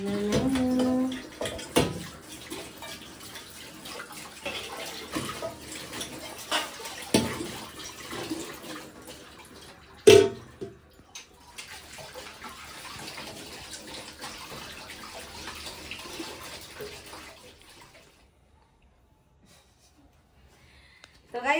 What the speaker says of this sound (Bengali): বাসন মেজে ফেলি